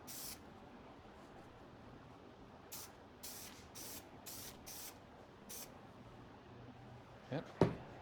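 Several short hissing bursts from a can of spray glue during costume and mask fabrication, spaced irregularly, with a few soft knocks near the end over a quiet background.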